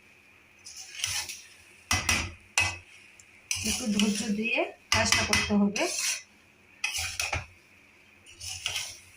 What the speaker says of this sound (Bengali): এইভাবে কন্টিনিউ আমি নাড়তে থাকছি, ছেড়ে দিলে হবে না, ছেড়ে দিলে খোলায় সেটে যেতে পারে।